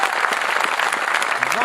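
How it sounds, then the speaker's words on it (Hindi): A crowd at a comedy poetry show (hasya kavi sammelan) claps in a steady, dense burst, loud and close, with a voice faintly under the applause. "तालियां कमजोर है आपकी।"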